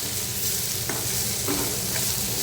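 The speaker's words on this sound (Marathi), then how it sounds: "आता मसाले सुद्धा आपल्याला परतून घ्यायचे व्यवस्थित याच्यासोबत" Spices sizzle in hot oil with prawns and potatoes for a Karandi batata kalvan curry, a steady close frying hiss broken by a few soft stirring scrapes, with no talking.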